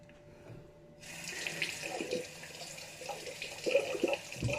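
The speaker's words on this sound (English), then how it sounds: "Use cold water" Water runs from a tap into a sink during a wet shave with a slant safety razor, starting abruptly after a quiet second and continuing as a steady close splashing stream with small clatters.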